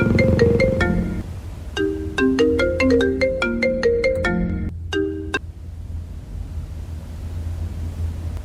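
A phone ringtone plays a bright, repeating electronic melody of stacked tones, loud and close, running several seconds before stopping abruptly, over a steady low background hum with no talk.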